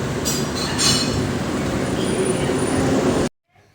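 A train rolling on rails, heard as a loud, steady rumble with rhythmic wheel clatter and a faint high squeal, ending abruptly into near silence.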